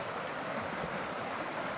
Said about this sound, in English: Let's check out the creek up here.